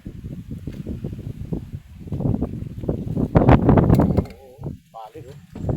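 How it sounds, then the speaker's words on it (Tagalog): Strong wind gusts roar and rustle outdoors while wood is stacked and covered, a broad blustery rumble rising and falling with voices talking briefly near the end. "Malakas pa naman ang hangin."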